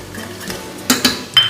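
Biryani masala being stirred into soya chunks biryani in a metal pot, with a few sharp spoon scrapes and clinks against the pan over a faint low background, near and moderately loud.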